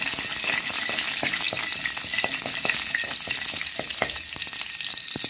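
Ghee sizzles and crackles in a kadai, giving a dense, steady frying hiss dotted with sharp pops and spits. It is close and loud, with no talking.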